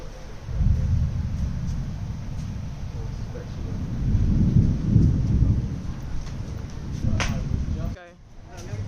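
Thunder rumbling through a storm seen from coastal cliffs, a long low roll that swells and fades amid rain and wind noise, ending abruptly.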